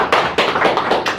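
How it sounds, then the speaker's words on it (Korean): Audience at a business forum clapping, a short burst of sharp, rhythmic claps from a small crowd, close and loud. "박수 한번 보내주세요."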